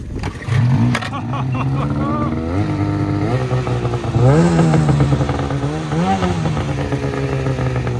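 A 2-stroke snowmobile fires on the first pull and revs in a string of rising, falling blips, close and loud, with voices talking underneath.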